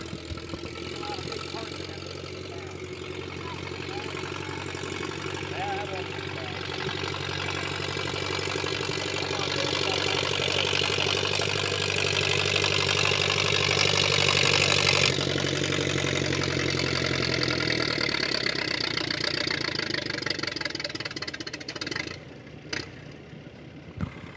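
A pulling tractor at a barnyard tractor pull at the Georgetown Fair warms up, its engine rumbling steadily and rising to a louder, harsher roar before cutting back near the end, with announcers talking over it.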